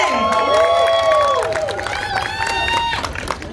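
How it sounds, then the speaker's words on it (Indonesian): A stage-event audience claps and cheers loudly for a guest being introduced, with excited raised voices ringing over the applause throughout. "Boleh kita tepuk tangan dong buat Monica Rajale."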